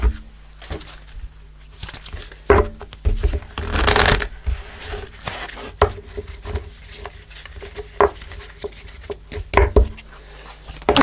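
Tarot cards shuffled by hand, with repeated riffling and soft slapping bursts in an uneven rhythm, loud and close, with no talking.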